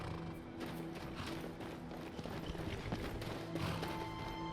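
Horse hooves clip-clop in the Skyrim video game, a faint run of rhythmic taps and thuds with a brief whinny, set against steady low background game music.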